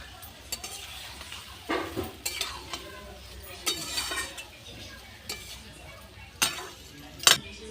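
Potatoes and spices for egg do pyaza are stir-fried in oil in a pan, with a low continuous sizzle broken by repeated scraping spatula strokes and a few metallic clinks, close and moderately loud.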